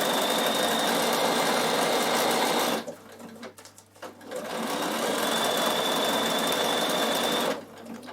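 A sewing machine stitches a travel pouch in two loud, steady runs, whirring up close, with a short quiet pause between them while the fabric is adjusted and no voices heard.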